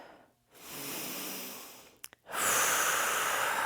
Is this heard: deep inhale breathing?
yes